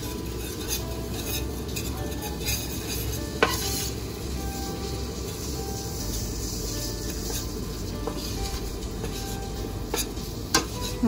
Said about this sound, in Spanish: Y comenzamos a mezclar.